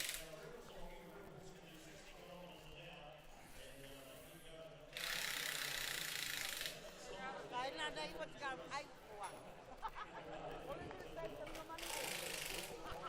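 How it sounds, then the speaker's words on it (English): STIHL MS 661 chainsaws (91.1 cc) cutting wood at a timbersports championship, a loud high-pitched buzzing burst in the middle against crowd noise and clattering, with other saw whines farther off. "So that is a powerful chainsaw."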